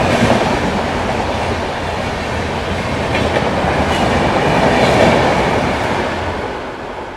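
The Gorakhpur–Bandra Humsafar Express passes close by with a loud, steady rumble and rhythmic clickety-clack of wheels over rail joints, swelling slightly toward the end with faint squeals.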